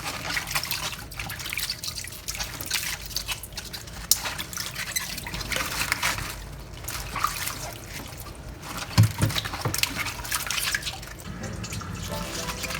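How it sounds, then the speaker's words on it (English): Bok choy being rinsed under running tap water in a kitchen, with a steady trickle and splashing of water, occasional drips and clatter, at moderate level and without talk. "I'm like rinsing them off, put them back in the pan"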